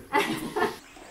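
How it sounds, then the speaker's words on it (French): A white Swiss shepherd puppy gives two short, sharp barks about half a second apart, fairly close and loud, then falls quiet. "C'est une race, donc c'est un berger blanc suisse."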